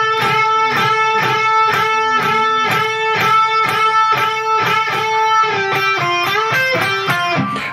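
Electric guitar bends on single notes, multi-tracked three or four times so they sound like double stops, in a guitar solo: a steady run of quick, close, bright bent notes with a rhythmic pulse and no talking.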